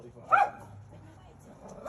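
A dog gives two short, sharp barks, close and loud, with a pause between them and a quiet, faintly whimpery background.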